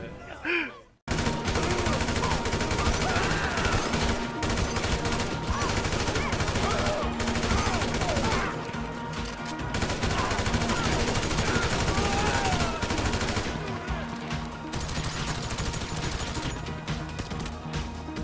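Sustained gunfire from a Grand Theft Auto V police roadblock shootout, dense bursts of automatic and single shots cracking continuously and loudly for the whole stretch, with game engine and crash noise mixed underneath.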